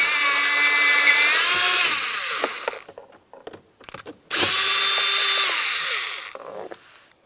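A power tool whirs on a 10mm bolt inside a Ford Flex front door panel, two sustained buzzing runs separated by brief clicks and rattles, close and loud.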